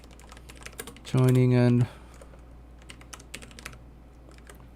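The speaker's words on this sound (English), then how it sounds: "So I'll type here." Computer keyboard typing at a gaming setup gives scattered, soft clicks close to the mic. A brief steady electronic tone sounds early on, and a few quiet spoken words are heard.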